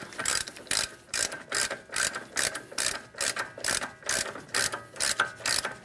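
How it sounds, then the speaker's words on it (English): A hand ratchet tightens an axle nut on a Ford Edge wheel bearing hub, giving a close, loud, rhythmic clicking in short, evenly repeated strokes, with no talking. "as we start installing our axle nut, I'm using a hand tool, never an impact tool, on the bearing."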